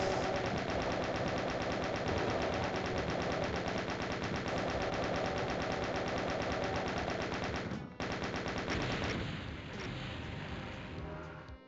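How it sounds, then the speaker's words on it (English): A chain gun hammers away in The Ultimate Doom, firing as a rapid, steady stream of loud shots for about eight seconds, breaking briefly before more fire and a fading, busier tail of game noise. "The first time when I'm actually using the chain gun."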